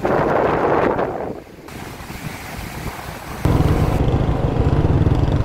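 Waves surge and crash loudly amid gusty wind rumbling against the microphone, with no voices, in the aftermath of Typhoon Uwan.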